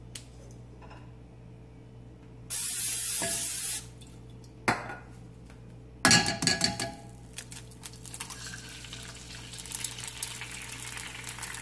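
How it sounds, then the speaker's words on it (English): A short, steady hiss of an aerosol spray lasting about a second, followed by clinks and scraping of a pan on a quiet kitchen background. "now we're gonna use some cooking spray"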